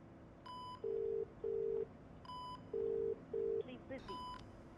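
A phone call fails to connect in a movie scene: a repeating pattern of short electronic tones and steady beeps, several distinct pulses in a row, fairly quiet over a low background hiss.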